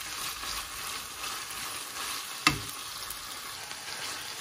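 Tomato and green chili fry in a pan while being mixed, giving a continuous, close sizzling hiss with one sharp utensil tap midway.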